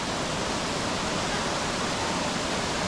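Water pouring from a cold spring in Sorsogon, a dense, constant splashing rush that stays loud and close throughout with no talk.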